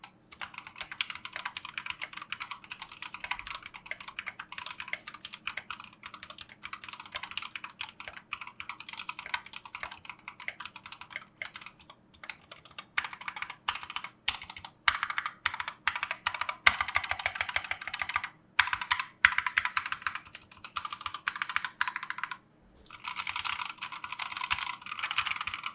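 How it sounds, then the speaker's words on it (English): Typing on a completely stock, unmodded mechanical keyboard produces a continuous stream of clacky keystrokes at varying speed, with occasional louder presses and a brief pause near the end. "here's a sound test of the keyboard completely stock without any mods"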